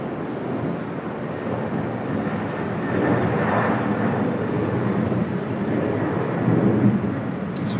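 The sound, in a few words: China Airlines Boeing 777-300ER jet taxiing at LAX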